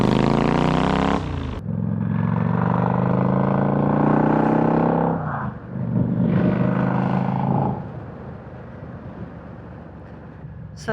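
A Kawasaki VN 800 Drifter motorcycle engine runs loud and close, its rumble rising and falling with revving, then easing off toward the end.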